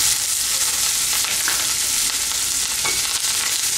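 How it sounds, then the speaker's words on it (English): Chopped coriander and mint leaves hit a hot frying pan for peas pulao, giving a steady, loud, close sizzle with faint stirring scrapes throughout and no talking. "Now I am going to add chopped coriander and mint leaves."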